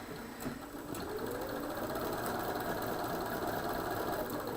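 A sewing machine runs steadily with a continuous whirring hum, stitching a quilt border from start to finish at even volume.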